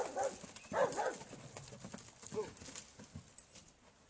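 A ridden horse's hooves clip-clop in an uneven rhythm at moderate distance, the steps fairly faint against outdoor ambience with a few stronger footfalls early on.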